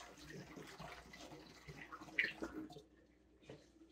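RODI water poured from a jug through a funnel into a container, a soft, steady trickling splash with a brief louder gurgle partway through, faint and close.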